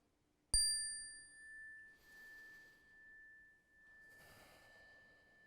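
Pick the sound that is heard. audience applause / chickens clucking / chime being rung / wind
chime being rung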